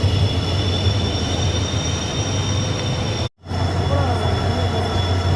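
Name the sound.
train entering Manamadurai Junction platform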